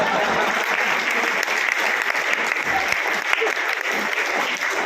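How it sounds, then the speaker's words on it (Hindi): An audience at a Hindi comic poetry gathering breaks into sustained, dense applause, loud and close throughout. "ताली बजा सकते हो।"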